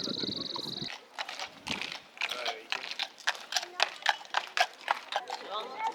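Horse hooves clip-clop on a London street in a quick, steady rhythm, the clatter growing more distinct after a brief noisy start, with crowd voices faintly in the background.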